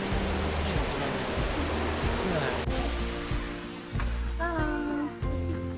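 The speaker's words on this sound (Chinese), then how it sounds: "我们在高千穗瀑布" The waterfall in Takachiho Gorge, Miyazaki, Japan, gives a steady, broad rushing roar at midday, with people talking faintly over the constant water noise.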